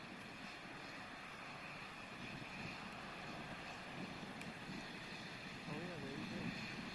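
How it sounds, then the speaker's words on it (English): Space Shuttle Discovery's three main engines power the ascent during the second stage on mission STS-116, heard as a faint, steady, distant rumbling roar that holds continuously. "Discovery's 3 engines now powering the second stage"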